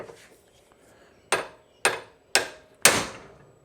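A hammer taps on a ball joint of a Honda TRX350TM quad. Four sharp metallic knocks land about half a second apart, close and loud in a quiet space.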